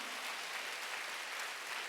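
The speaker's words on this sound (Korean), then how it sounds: "박수." Congregation applauding at a Wednesday worship service in a Korean church, a steady wash of many hands clapping with no voices over it, moderately loud throughout.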